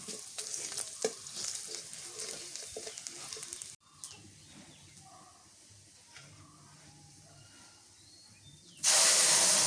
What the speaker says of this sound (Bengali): এখন হচ্ছে পেঁয়াজ ভাজতেছি